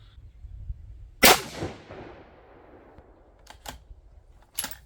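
A 6.5 Creedmoor rifle fitted with an EC tuner fires a single loud, sharp shot that cracks and then rings out in a long decaying tail outdoors, followed by a few faint clicks and a small clack.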